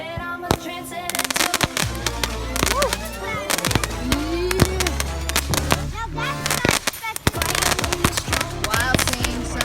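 Fireworks bursting again and again at a family fireworks show, with sharp loud cracks and bangs coming in dense clusters while people talk and cheer in between.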